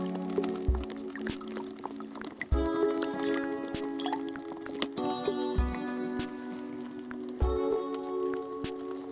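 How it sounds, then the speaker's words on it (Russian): Cooking oil, about half a bottle, goes into a slightly warmed kazan cauldron outdoors over a campfire, heard as soft, faint liquid drips and splashes over a low, steady background hum. "Выливаем примерно пол-бутылки масла в чуть подогретый казан."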